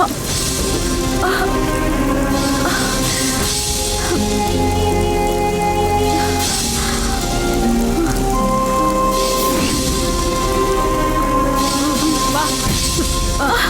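Steady, dense rain pours down throughout, a constant wash of drops hitting surfaces, with a faint murmur of voices now and then underneath.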